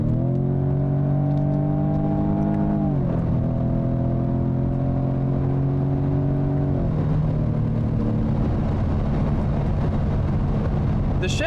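A 2021 Jaguar F-Type is driven hard through a corner, its engine producing a loud, steady droning note that drops in pitch twice as gears change, with rumbling road noise underneath.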